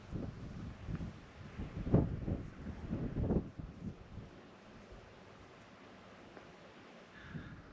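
Gusty wind buffets the microphone on a misty coastal hilltop on the Welsh coastal path, with strong close rumbling bursts in the first few seconds easing to a softer, steady breeze.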